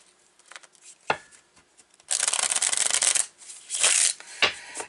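A deck of Everyday Tarot cards is handled with a few light taps, then shuffled in two crisp riffling bursts, close and fairly loud, with no talk.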